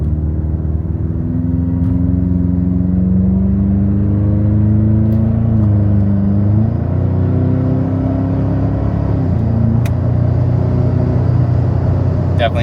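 A 2024 Toyota Tacoma 4-cylinder with a MagnaFlow exhaust revs up and climbs through gears, its deep throaty rumble rising and dipping in pitch, loud and continuous.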